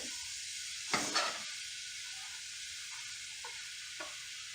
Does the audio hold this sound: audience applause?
no